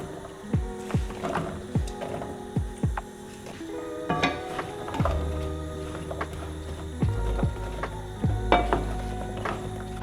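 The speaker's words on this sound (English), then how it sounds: "I'm going to heat my pan to medium high and throw in some tomato paste as well as my chopped veggies" Tomato paste and chopped vegetables sizzle in a pan heated to medium-high, with a steady frying hiss broken by several sharp clanks of a utensil against the cookware near the start and scattered knocks throughout.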